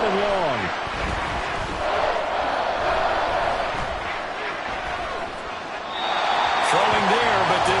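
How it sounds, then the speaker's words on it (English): A stadium crowd in the Madden 24 football video game roars as a loud, continuous wall of cheering that swells and dips, with commentary voices talking over it. "This crowd turning up the decibel level"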